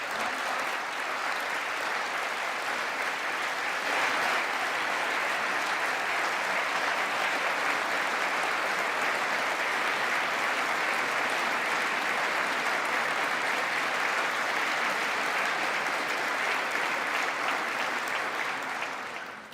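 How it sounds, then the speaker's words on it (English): Sustained, dense applause fills a legislative chamber at the US Congress, a large crowd clapping steadily and evenly for nearly twenty seconds without pause or speech, fading only slightly at the very end. "I don't get that much applause in the Greek parliament."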